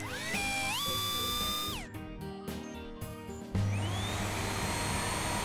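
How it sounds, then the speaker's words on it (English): A steady whirring motor drone, like a hairdryer blowing, runs throughout with shifting pitch and a brief louder burst near the end, no talking. "I don't think that little hairdryer will melt this cold snow shower"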